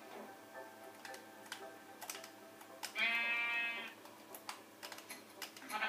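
A sheep bleats once in the video game Minecraft, a short wavering bleat standing out against faint clicking and ticking sounds.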